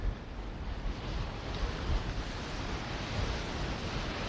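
Sea waves at the Mediterranean coast near Marsa Matruh, a steady broadband roar of surf mixed with wind buffeting the microphone, continuous with no voices.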